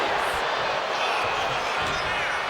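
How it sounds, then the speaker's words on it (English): A wrestling arena crowd roars during an ambulance match, a loud, continuous wall of cheering that fills the space without letting up, with no clear pauses or breaks. "This crowd is thunderous right now"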